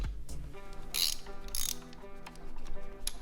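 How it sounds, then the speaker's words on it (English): A ratchet with a spark plug socket clicks as it loosens spark plugs on a VW 2.5 engine, producing a close, quiet run of sharp pawl clicks in uneven bursts. "taking out spark plugs. Pretty simple. Spark plug socket."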